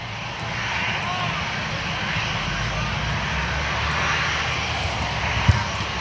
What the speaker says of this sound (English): We've got Qantas that'll be heading off to Melbourne